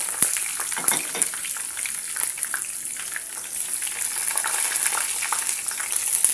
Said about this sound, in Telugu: ఒకసారి కలవేసేసి లైట్ బ్రౌన్ కలర్ వచ్చేంత వరకు వేగనివ్వండి